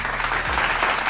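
Audience applause rises briefly at a sports talk show, a short burst of clapping from a crowd at moderate distance, dense and steady throughout.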